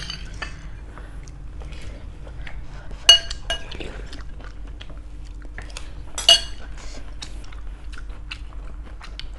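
Spoon clinking against a bowl while mixing rice into spicy kimchi soft tofu stew, with two sharp close clinks standing out over soft wet stirring and faint chewing.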